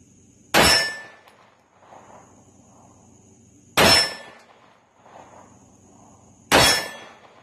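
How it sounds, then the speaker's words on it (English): A Tisas Zigana PX9 pistol fires three loud, sharp shots a few seconds apart, each a hard crack followed by a quick decaying ring outdoors, with faint faint clinks between. "We're going to fire a couple, see if that helped him."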